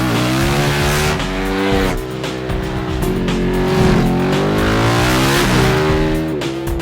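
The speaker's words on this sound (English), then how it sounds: "powered by a fast-revving 898cc V-twin engine that also doubles as a main component of the chassis" A 2014 Ducati 899 Panigale's 898cc V-twin sport bike engine revs loud and close, pitch climbing and falling through repeated throttle sweeps with no voices over it.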